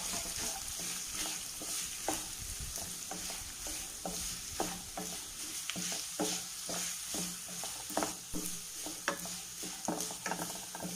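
Chopped onions sauté with salt in a pan for chicken roast, a constant sizzle under frequent sharp clicks and scrapes of a spatula stirring, close and clear.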